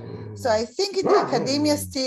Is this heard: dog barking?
yes